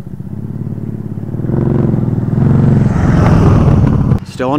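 Can-Am Spyder three-wheel motorcycle held on light throttle during a riding safety course, its engine rumbling loud and close with a steady pulsing drone that builds slightly before a brief drop at the end.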